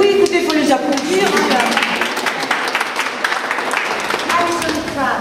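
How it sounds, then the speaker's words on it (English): Audience clapping for sixth-form students at the end of a work experience trip in Angers, France; steady, fairly close patter of hands lasting several seconds, with voices talking and calling out over it. "il faut les applaudir."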